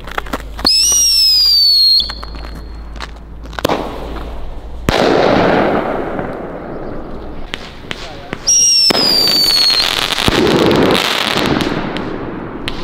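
New Year's firework rockets lit with a plasma lighter whistle upward with rising shrieks, then burst into loud crackling explosions; two launches, each followed by sustained fizzing and popping, with voices in between.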